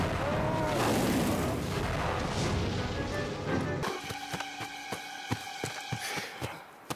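Gunfire in a Russian-language military video game, a steady roar of shooting giving way to a sparse series of sharp separate shots and impacts, with no talk.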